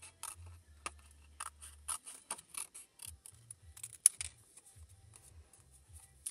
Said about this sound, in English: all you're going to do is to very simply fussy cut it out